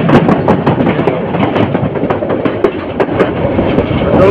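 Chottola Express passenger train crossing Tongi Junction near Dhaka after leaving the Airport railway station. A loud, steady rumble carries rhythmic clickety-clack from the wheels on the rail joints, heard up close throughout.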